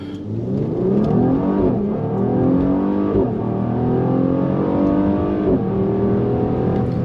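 Mercedes-AMG GLC43 all-wheel-drive SUV launching hard from a standstill, a loud engine roar climbing in pitch through several gear changes with brief dips between shifts, close and continuous.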